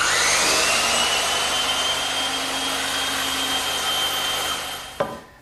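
Bandsaw cutting a wooden tenon, a steady high whining hum of the blade through wood that runs continuously before a sharp knock as the cut ends and the noise drops away.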